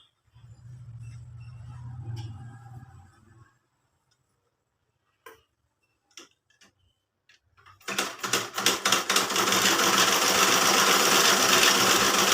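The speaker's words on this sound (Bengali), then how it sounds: "এটা আমার 42 বছরের মেশিন" An old 42-year-old sewing machine starts after a low hum and a few scattered clicks, then stitches with a loud, rapid, rhythmic mechanical clatter up close.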